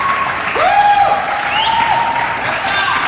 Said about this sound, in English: So can we get some claps for Kenny Albert?